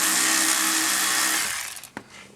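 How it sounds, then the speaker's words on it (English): An electric power tool whirs steadily while backing 7mm screws out of a trim panel on a Chevrolet Impala dashboard, then winds down, followed by a brief sharp click. "I'm going to use this electric tool to make it faster"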